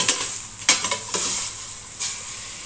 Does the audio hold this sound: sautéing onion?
yes